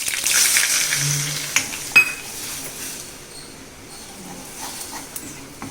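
Wheat flour fries in a pan for a cream of cauliflower and broccoli soup. A bright hiss is strongest at first and then fades to a quieter crackle, with a couple of sharp utensil clinks partway through.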